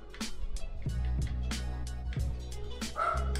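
A dog barks and yips in short repeated bursts, loud and close, over steady background tones from a football video game playing in the same room.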